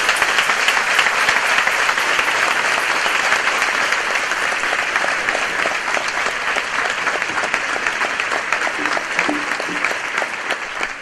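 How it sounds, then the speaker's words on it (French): A church congregation claps in warm, sustained applause for about eleven seconds, steady and fairly close, with a faint murmur of voices underneath. "Recevons notre sœur Marie-Luisa avec un grand applaudissement"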